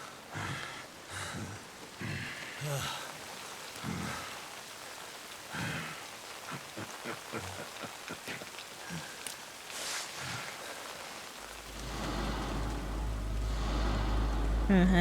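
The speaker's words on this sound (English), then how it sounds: "It's raining." Rain falling in the video game Lost Judgment, a steady patter of drops on surfaces under scattered voices and game sounds, swelling into a louder, heavier downpour with a deep rumble toward the end.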